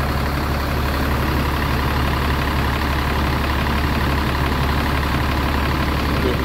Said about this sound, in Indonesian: Suara mesinnya masih enak ya, ini Merti 15 tahun ya, Alugoro.